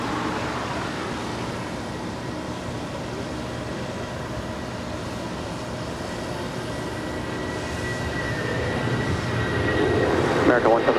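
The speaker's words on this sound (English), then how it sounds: "Our next departure is United Airlines Flight 514 heading to JFK." A United Airlines Boeing 757-200 departs LAX, a steady, broad jet roar mixed with airport and traffic noise that swells toward the end, with some voices underneath.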